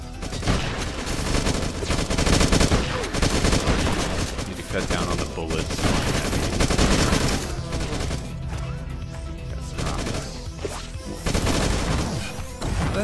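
Gunfire from a gun in the video game Beyond Sunset, dense and loud repeated shots running almost continuously under game music and effects, with a brief lull before the firing picks back up.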